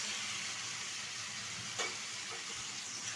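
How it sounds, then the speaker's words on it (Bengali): Washed mutton fat hits a pan of spices with Kashmiri chilli powder while cooking ghugni, giving a steady close hiss of sizzling with a single soft clink partway through. "এখন দিয়ে দেবো ধুয়ে রাখা খাসির চর্বি"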